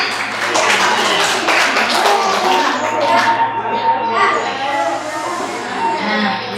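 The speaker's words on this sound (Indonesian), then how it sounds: "iya, tepuk tangan." Young children in a kindergarten group clap their hands, a brief burst of scattered clapping that quickly fades, followed by children's voices and a steady background hum.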